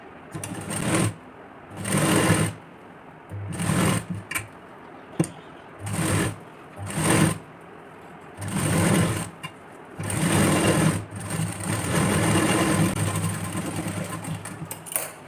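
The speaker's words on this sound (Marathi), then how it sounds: "आता मी जे हे एक पार्ट घेणार आणि याला स्टिच करून घेणार" A sewing machine stitches parts of a padded 31-size chest blouse in repeated short bursts of rapid mechanical whirring with pauses between, close up, ending in a longer continuous run.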